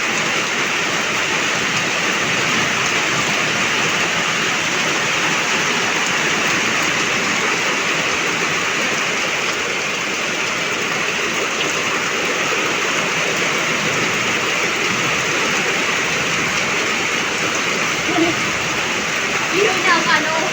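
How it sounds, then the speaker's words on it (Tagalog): Heavy rain pours steadily in the provincial countryside as a dense, unbroken hiss, loud and close throughout, with a few small splashes near the end. "Grabe ang lakas ng ulan"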